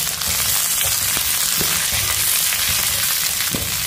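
Pirandai and garlic sautéing in a pan, a loud, close, steady sizzle with crackling oil and a few knocks of stirring, with no voices.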